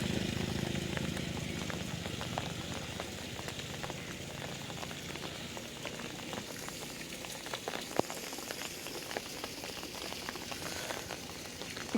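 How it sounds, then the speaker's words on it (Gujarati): Unseasonal rain falls steadily and evenly, a continuous patter on surfaces with scattered louder drops, heard alone without any voices. "વાદળછાયું વાતાવરણ સાથે સાથે વરસાદ હાલ સમગ્ર વિસ્તારમાં પડી રહ્યો છે"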